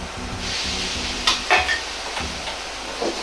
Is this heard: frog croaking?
no